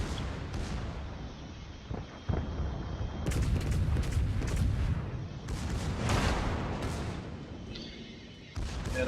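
Heavy naval guns of the German Tier VIII battleship Tirpitz boom in a World of Warships ranked battle, a dense rolling roar of broadside fire and explosions sustained across the clip with brief lulls.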